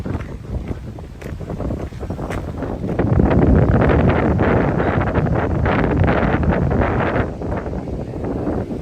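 Strong wind gusting across the microphone on a waterside path near Horrid Hill, Gillingham, Kent, a constant rumbling roar that swells louder midway, with occasional light rustles and no talking.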